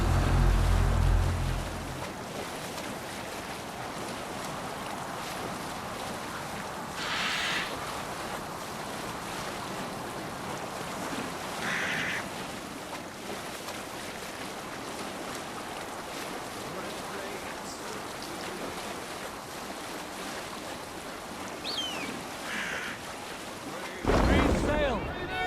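A sailing ship at sea in the video game Assassin's Creed Valhalla, with continuous waves washing against the hull and wind, plus brief bursts of splashing and occasional in-game voices in the background.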